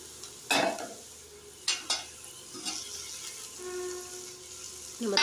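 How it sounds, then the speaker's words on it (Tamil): Tomatoes sautéing with ginger garlic paste in a pan: a soft sizzle with a few scraping stirs of a spatula against the pan, spaced out and fairly quiet. "நம்ம தக்காளியை சேர்த்துட்டு அதையும் நல்லா வதக்கிக்கலாம்."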